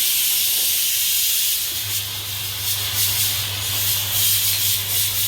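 Pressure cooker hissing on a home kitchen stove, a steady loud broadband steam hiss with fluttering pulses, joined partway by a low steady hum, no talking.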